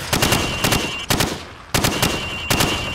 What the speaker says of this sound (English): Now, shoot at the targets while firing from the hip.